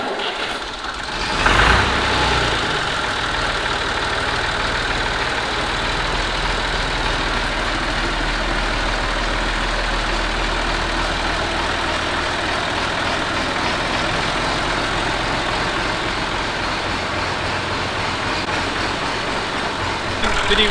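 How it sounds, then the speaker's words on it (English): Steady running drone of a classic Massey Ferguson 135 tractor engine, continuous and fairly loud throughout with a brief louder bump near the start and no clear talk over it. "We'll take the 135 out now if that's all right, and then we can take it for a spin."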